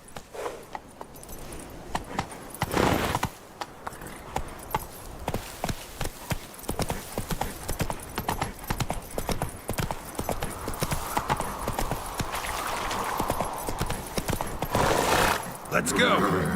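A horse galloping in The Witcher 3, with rapid, loud, continuous clip-clop hoofbeats in a steady rhythm under game ambience, with bursts of louder movement noise.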